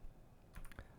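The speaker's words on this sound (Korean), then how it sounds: "키보드 P 옆에 있는 대괄호 옆에 있는 역슬러시를 눌러주시면" A single computer keyboard key, the backslash, is pressed once with a soft, quiet click in a calm room.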